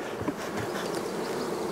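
Honey bees buzz around hive supers during a sourwood honey flow, making a faint, continuous droning hum from many insects with no voices.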